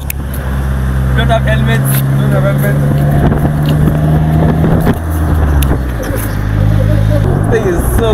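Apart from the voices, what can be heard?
Polaris Slingshot three-wheeler driving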